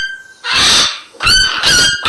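A recording of a toucan's yelping call plays as three or four harsh, honking bursts separated by short gaps. The calls are loud and close, with no voices over them.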